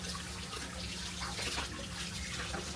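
A kitchen tap runs water in a steady, close, continuous hiss and splash with no pauses, as tilapia is being cleaned for frying in a home kitchen.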